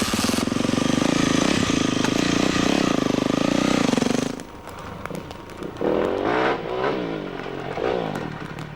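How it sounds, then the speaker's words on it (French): A new Yamaha 400 YZF four-stroke enduro motorcycle roars loudly at high revs nearby, then backs off and revs up again in rising and falling pulls as it rides away. "Je pars maintenant avec la nouvelle 400 YZF 4 temps."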